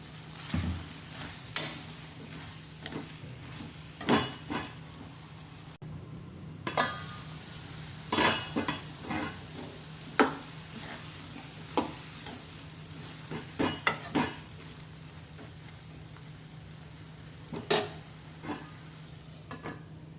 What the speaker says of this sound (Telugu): ఇందులో వంకాయలు వేసుకుందాం. 200 గ్రాముల వంకాయలండి.